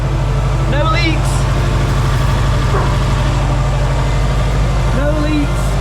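A crashed Subaru Impreza idles after a DIY service with new spark plugs, a loud, steady low rumble close by, while voices cheer and talk over it.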